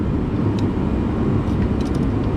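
Small heater running in a workshop where a diesel M718A1's exhaust manifold is being refitted, a loud, steady low rumble and fan roar filling the space without pause.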